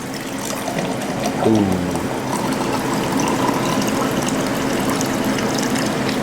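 Filtered water pours out into mason jars at a wellness spot, a steady splashing rush running through the whole stretch, with a brief murmur of voice near the start.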